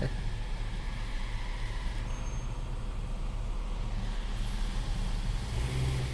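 Cars and heavy vehicles pass through a boom gate, a steady loud wash of traffic rumble and engine drone with occasional brake hiss, no clear break in the flow.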